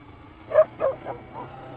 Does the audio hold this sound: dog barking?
yes